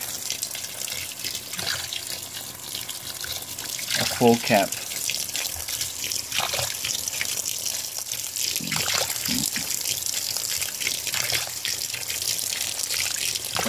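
A 2015 Whirlpool Cabrio washing machine fills with water for its final rinse, a steady rushing stream of moderate loudness, briefly joined by a short spoken remark nearby.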